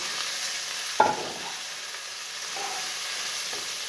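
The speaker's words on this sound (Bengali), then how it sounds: "এখন দিব শাক ঢেলে।" Malabar spinach greens tipped into a pan of fried onions, a soft steady sizzle with a sharper burst as the leaves land, then quieter hissing and a couple of light stirring touches.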